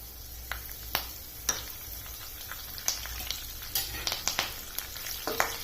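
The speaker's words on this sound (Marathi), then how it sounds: "आता त्यात टाकूया कढीपत्ता पंधरा वीस पानं कढीपत्त्याची टाकायची" Curry leaves crackle and pop in hot oil, a quiet sizzling bed broken by sharp, irregular spits and snaps.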